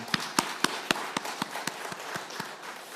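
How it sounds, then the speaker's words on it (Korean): Congregation at a Thanksgiving Sunday church service clapping together in a slow, even rhythm, about a dozen sharp claps spaced roughly a quarter second apart, moderately close and fairly soft. "박수 한번 해주시기 바랍니다."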